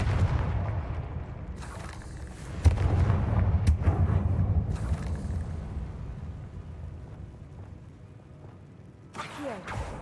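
Confringo fire spell explosions in Hogwarts Legacy come as a sharp blast followed by a low rumbling roar that slowly fades, with a few short bursts and whooshes later on.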